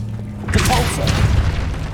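In the Hogwarts Legacy video game, the Depulso spell is cast with a deep booming blast and a rumbling thud inside a cave, following a brief onset and ringing out for over a second.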